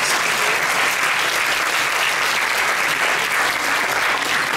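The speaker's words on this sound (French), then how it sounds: "On l'applaudit" A large audience claps at an opening ceremony, a thick, sustained wash of applause that stays loud and unbroken for several seconds, with no talking on top.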